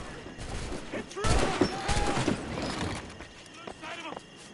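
Gunfire in the video game Assassin's Creed Black Flag, a burst of scattered shots in the middle of the clip, with game voices shouting around it.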